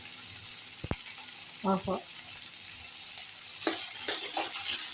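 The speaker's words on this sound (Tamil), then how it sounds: "இப்போ நல்லா வதக்குங்க. வெண்டைக்காய் நல்லா சுருள வதங்கட்டும்." Chopped okra sautéed in a pan, a soft sizzle with a few sharp spatula knocks and scraping stirs, close and fairly quiet.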